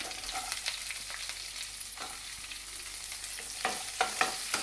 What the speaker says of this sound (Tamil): இந்த வெங்காயம் பொன்னிறமாக வதங்கி வரட்டுங்க